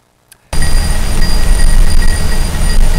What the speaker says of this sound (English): This is the sound of crystal structure changing inside the iron.